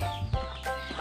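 A native chicken caught in the Philippines lets out a short, harsh clucking squawk at close range, about a second of strained, raspy calls.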